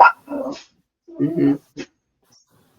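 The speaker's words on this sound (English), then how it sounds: "Sorry for the barking." A dog barks and whines near a microphone, a few short yelping bursts with a quiet gap between, inside a house during a conversation.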